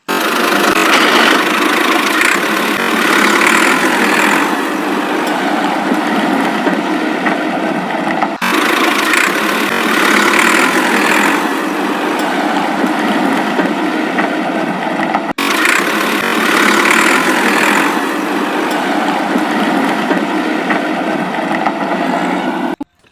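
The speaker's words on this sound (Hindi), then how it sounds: "चलो सबसे पहले हम ये वाला ट्रैक्टर लेके चलते हैं।" A John Deere tractor engine runs steadily at a constant mid-pitched drone for over twenty seconds, loud and close, with no talk over it.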